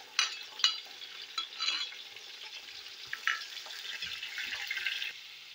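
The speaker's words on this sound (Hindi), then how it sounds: "टमाटर सॉफ्ट होने तक इनको भूनते हैं।" Tomatoes and green chilies with garlic ginger paste fry in a pan for a pulao, a soft steady sizzle broken by a few light scrapes and stirs, fairly faint with no talk.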